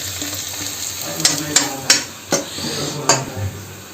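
Food frying in a pan while being stirred for a homemade Maggi noodle dish, a steady sizzle with several sharp utensil scrapes and clinks against the pan, close and fairly loud.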